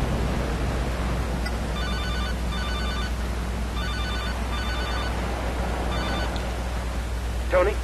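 Telephone ringing in the video game GTA Liberty City Stories, a series of repeated electronic trill bursts in an even rhythm over steady game background noise.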